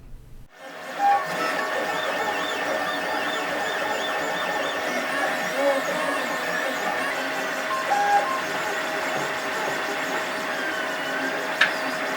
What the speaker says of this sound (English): So these are all the pieces that need printing, and they're going to be printed in the colours shown.